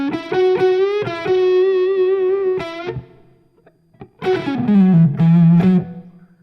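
Electric guitar through a germanium distortion pedal plays a lead phrase with sustained, gritty notes and quick picked attacks, a short pause, then a bending, fuzzy line.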